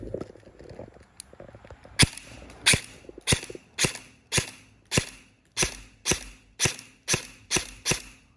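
Double Bell M4 airsoft rifle, model 063 with a 6.5-inch front kit, fired outdoors at a 40-meter accuracy test: a string of about ten sharp, evenly spaced shots at a steady semi-automatic pace, close and loud, with a few quieter clicks before them.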